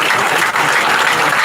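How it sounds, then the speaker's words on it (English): Audience at a political party manifesto program clapping for a panel, a dense, loud, even burst of applause throughout. "I will ask each of us to clap for our able panel."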